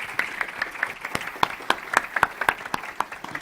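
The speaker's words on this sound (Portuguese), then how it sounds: "Uma salva de palmas." A small conference audience at an autism accessibility forum claps for a speaker, with sharp, scattered hand claps in an uneven rhythm, fairly close and moderately loud, no voices over it.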